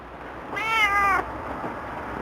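A dirty house cat gives one clear, close meow lasting about half a second, with a drawn-out, slightly wavering pitch, alone against a quiet room background.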